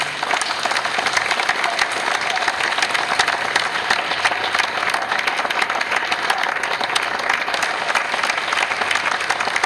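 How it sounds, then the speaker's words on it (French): A crowd at a citizens' rally against riots applauding firefighters, dense and loud continuous clapping from many people, sustained evenly throughout with no speech over it. "Vous pouvez aussi les applaudir, sapeurs-pompiers"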